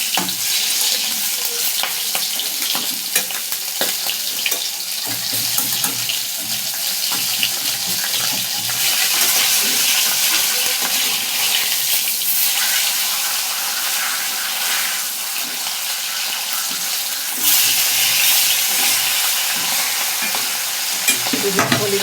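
Fish fry in a pan in a home kitchen with parwal being cooked alongside, a constant close sizzle and spatter running through the whole stretch with brief bursts of stirring and louder crackle.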